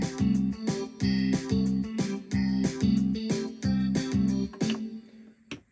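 Yamaha Genos 2 arranger keyboard playing an accompaniment style with some part volumes turned down: steady rhythmic chords and bass with drums in repeating bar-long patterns, loud and close, with no talk, before the style stops and rings out.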